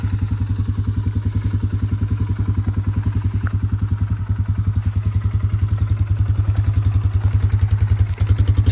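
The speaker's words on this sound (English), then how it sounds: "Stock exhaust sounds pretty good too." A 2025 Polaris Sportsman 570 ATV idles through its stock exhaust close by, a steady, even rapid chug of low thumping pulses that runs the whole time with no talk.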